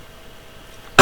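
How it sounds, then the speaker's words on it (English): A person with a bad cough lets out a single loud, sharp cough right at the end after near silence. "I've got a bad cough"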